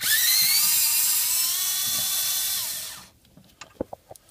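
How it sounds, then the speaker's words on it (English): Power tool whirring steadily as it removes a bracket over the first spark plug on a Ford Expedition, a loud continuous high whine for about three seconds that stops abruptly, followed by a few faint clicks and knocks. "I'm using a power tool, but you can do this with"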